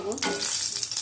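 A dried red chilli fries in hot oil with panch phoron, giving a loud, steady crackling sizzle that holds for about a second, close up and with no talk.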